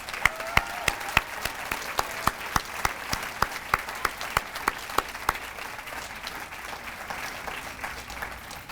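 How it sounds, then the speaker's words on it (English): An audience at a charity finalists' celebration applauds steadily, with sharp individual claps standing out near the front over a fuller wash of clapping that gradually thins toward the end. "Let's give one more heartfelt round of applause to our 7 inspiring finalists."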